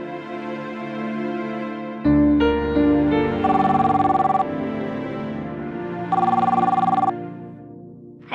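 A telephone rings indoors in a Hindi courtroom-drama scene, its repeated electronic bell bursts sounding loud and close over a sustained musical background, with two clear ring phrases spaced a few seconds apart.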